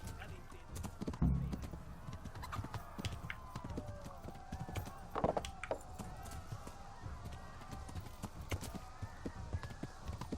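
Horse hooves clip-clop in a medieval game of Kingdom Come: Deliverance, irregular thuds and clops at moderate distance, with a brief whinny-like burst mid-way amid background game sounds.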